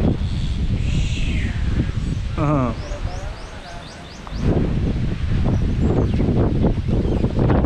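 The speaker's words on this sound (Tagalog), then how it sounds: "Wow, lakas hangin oh." Strong wind buffets the microphone with a low rumbling roar beside a Nissan Almera, while voices talk over it and a few faint bird chirps come through.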